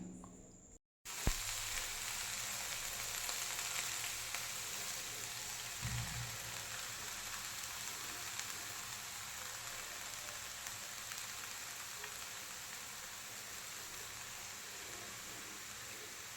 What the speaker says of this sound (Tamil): இந்த ஸ்டேஜில் நம்ம இதை நல்லா எண்ணெயில் வதக்கிக்கணுங்க